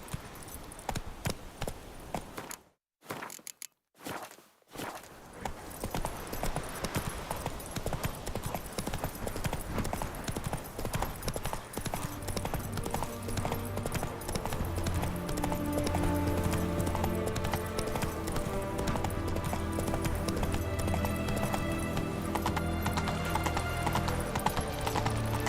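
Roach the horse gallops in Witcher 3 with brisk clip-clop hoofbeats, broken by a short silent gap, then continuing steadily as game music swells beneath them.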